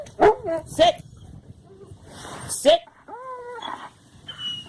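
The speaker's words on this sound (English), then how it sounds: "You can see what a reactive dog is and what a reactive dog she is." A reactive dog on a lead barks sharply a few times and then whines in rising, drawn-out whimpers, close and loud, with a person speaking between the outbursts.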